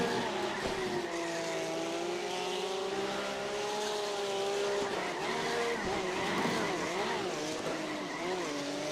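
Race car engine in the iRacing video game, a sustained high whine with rising and falling pitch through gear changes, mixed with tire squeal, loud and continuous throughout.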